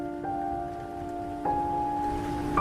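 Heavy rain pours steadily and close in a stormy night scene, a constant wash of noise with a faint tonal hum underneath and no distinct thunderclap.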